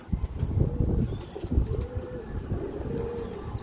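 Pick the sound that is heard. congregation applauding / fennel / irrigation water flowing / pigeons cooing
pigeons cooing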